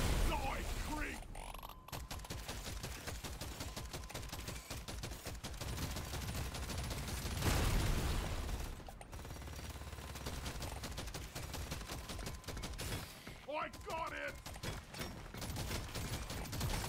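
Rapid automatic gunfire in Deep Rock Galactic: Survivor runs as a dense, crackling stream of shots for most of the stretch, with brief voices breaking in now and then.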